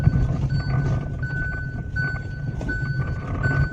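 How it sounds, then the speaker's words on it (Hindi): A Hyundai i10 with a faulty power steering torque motor gives off noise from its steering column: a steady mechanical hum underneath repeated high-pitched whining tones that come and go in regular pulses. "स्टीयरिंग कॉलम में नॉइज आ रहा है, ये देखिए।"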